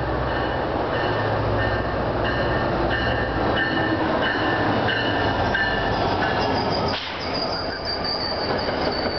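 A commuter train led by a PL42AC diesel locomotive, number 4002, hauling MTA Comet V coaches such as 6703 on the line to Mount Olive, rumbles past close and loud with steady rail noise and wheel squeal.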